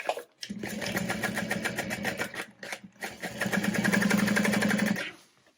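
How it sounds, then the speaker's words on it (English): A sewing machine top stitches a vinyl tote bag in two loud rapid bursts of needle clatter, separated by a short pause and ending in silence. "I'm just going to top stitch that right now"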